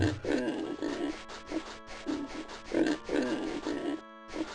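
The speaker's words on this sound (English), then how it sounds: "I'm haunted by the sounds of pigs." Repeated pig grunts and oinks from The Elder Scrolls II: Daggerfall come in steady, rhythmic bursts at close range, continuing without pause alongside faint game ambience.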